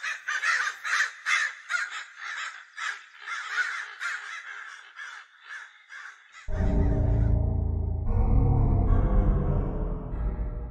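Several crows caw in a repeated series of harsh calls for about six seconds, then a loud low rumbling drone abruptly takes over and continues to the end.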